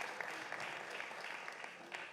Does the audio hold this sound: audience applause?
yes